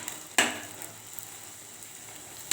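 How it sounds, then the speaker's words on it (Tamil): Greens and nightshade berries sautéing together in a pan, a faint, steady sizzle broken by two sharp spoon-against-pan clinks, no voices. "மணத்தக்காளி காய எடுத்து போட்டுட்டு எல்லாத்தையும் ஒன்றா வதக்கிக்கலாம்"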